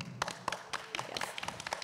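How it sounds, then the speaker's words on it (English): A small classroom audience at a secondary school claps for a student's speech, with sharp, evenly spaced claps close by that sound like only a few people. "Let's give her a round of applause"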